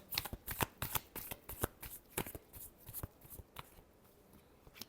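Tarot cards being shuffled by hand, a quick run of crisp riffles and card slaps in an uneven rhythm, close and fairly quiet, with no talking.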